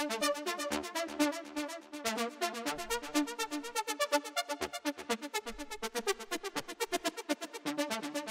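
A bright, pulsing synth lead from a melodic techno track plays a fast rhythmic pattern of repeated notes, steady and prominent throughout with no talking.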